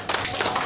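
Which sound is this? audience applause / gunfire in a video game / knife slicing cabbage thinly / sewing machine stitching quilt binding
audience applause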